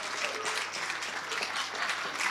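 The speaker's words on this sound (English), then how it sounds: "Keep the round of applause going." A crowd applauds at a UK sales leader awards ceremony, brisk continuous clapping that stays steady and fairly close for the whole stretch.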